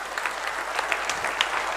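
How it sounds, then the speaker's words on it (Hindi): An audience claps at a company event, a steady patter of applause that is fairly faint and spread out, with no voices above it. "एक बार ताली बजना चाहिए, जोरदार ताली बजना चाहिए।"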